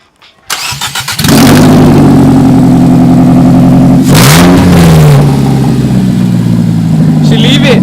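A Nissan engine fires up with its headers detached and roars loudly with a raw, unmuffled rasp, revving hard and holding a deep, aggressive idle with voices faintly underneath.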